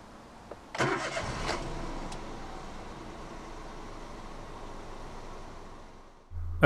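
A 2015 Toyota Aygo 1.0 VVT-i x-pression five-door hatchback with a manual gearbox cranks briefly and fires up, then settles into a quiet, steady idle heard close by.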